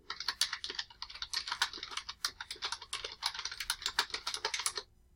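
Rapid, close clicking of keys on a computer keyboard, steady bursts of typing that stop abruptly near the end, with no voices.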